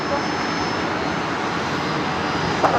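An aircraft on a repositioning flight at Brisbane Airport: a steady, loud jet engine roar that holds level throughout, with only a brief disturbance near the end.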